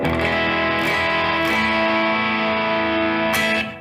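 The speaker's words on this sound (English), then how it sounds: "So I'm also using a thick overdrive that just sounds like this." A thick, overdriven electric guitar rings out in sustained, gritty chords for a few seconds, loud and alone, with a little faint reverb, then fades.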